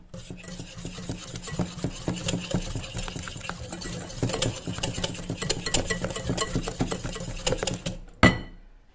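An electric whisk beats eggs with sugar in a bowl, a steady buzzing whir with rhythmic clatter against the bowl for about eight seconds before stopping abruptly.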